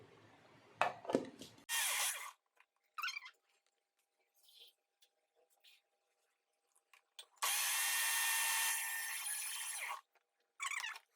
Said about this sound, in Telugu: ఇది మిక్సీ పట్టాలి